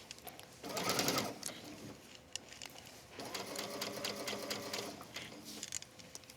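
A sewing machine stitches fabric for a tree pillow in two bursts of steady, rapid needle chatter, the second longer and evenly paced, close and fairly quiet with brief pauses between.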